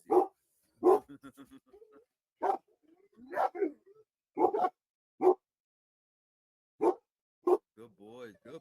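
Dogs bark in sharp, loud bursts at a wolf outdoors, the barks spaced irregularly with short yips and whimpers between them and brief pauses of quiet.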